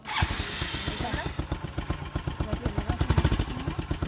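A motorcycle engine starts up after a brief scrape and a faint voice, then settles into a close, rhythmic putter that grows slightly stronger toward the end.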